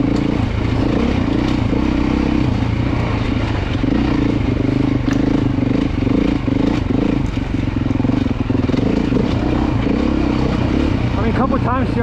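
A four-stroke Beta dirt bike engine runs steadily and loudly close by at a demo day, its rumble constant and barely changing as the rider works the clutch, with wind and clatter mixed in.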